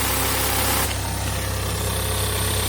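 A used 2007 Kia Sportage SUV engine idles steadily with a low, even rumble and slight vibration, close by and unchanging, with no voices.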